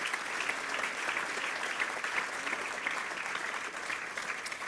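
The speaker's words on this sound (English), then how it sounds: "we'll keep the applause going" Sustained applause from the audience at the F1 in Schools Australian national final awards event, a dense continuous clatter of many hands at even loudness with no talk over it.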